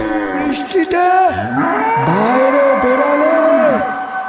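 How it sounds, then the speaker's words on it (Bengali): Cartoon cattle moo repeatedly, several loud drawn-out bellows overlapping one after another, set on a stormy night by a village road. "দূরে গ্রামের রাস্তার মোড় থেকে কিছু গরুর চিৎকার আর সরু কণ্ঠে এক আওয়াজ ভেসে আসছে"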